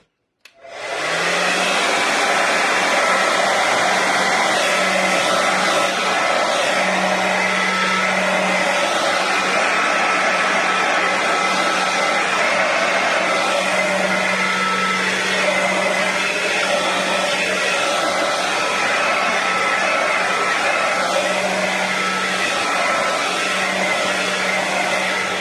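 A hair dryer blows steadily for about 25 seconds, drying off a craft project up close: a loud, continuous whooshing roar with a faint motor hum that wavers slightly now and then.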